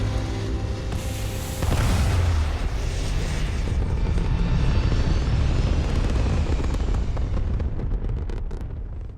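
Spaceship liftoff in the video game Starfield: a loud, steady engine roar with deep rumble swells sharply about two seconds in and holds strong to the end, with no talk over it.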